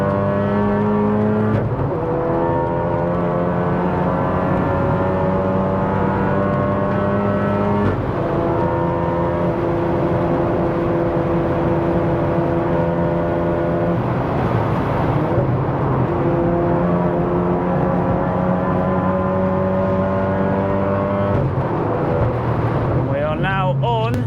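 A 500 BHP big-turbo Mk7 Golf R on a race circuit through Eau Rouge, engine droning loud and close from the cabin, rising through each gear with sharp drops at upshifts, several times over.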